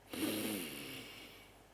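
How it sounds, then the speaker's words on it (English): One slow, deep breath drawn in through the nose, close to the microphone and soft, swelling quickly and then tapering over about a second and a half. "So you breathe in through your nose"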